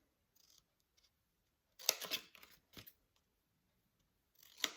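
Scissors snip through paper while a small scrapbook box is cut out, with a few light isolated snips followed by a quick louder run of close cuts and a final snip.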